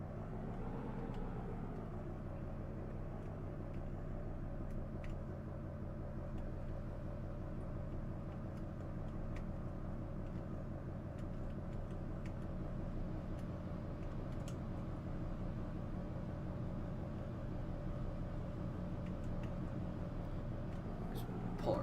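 A dump truck backing in, heard as a steady low engine rumble that drones on evenly for the whole stretch.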